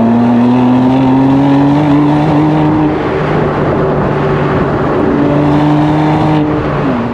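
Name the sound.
BMW M2 CS with manual shift driving, engine revving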